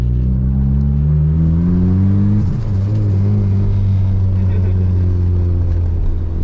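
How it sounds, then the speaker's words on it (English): The boosted Acura RSX Type S engine roars at a loud steady drone, its pitch shifting partway through. No clear turbo whistle stands out above the engine note. "You wanna hear the turbo spool?"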